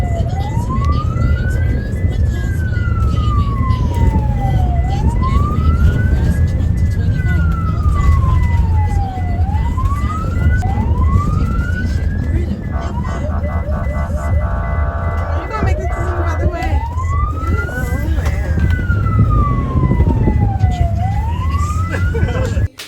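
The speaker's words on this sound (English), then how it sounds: "he had them sirens going, beep, beep, beep, beep, honking the thing" A wailing emergency siren rises and falls repeatedly over loud road noise, with a brief burst of rapid yelp tones midway and a voice underneath.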